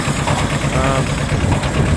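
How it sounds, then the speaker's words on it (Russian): Yanmar YM1500D 15-horsepower tractor with front loader pulls away, its small diesel engine chugging loudly and steadily up close with a rough, knocking rumble. "Следующий трактор поехал."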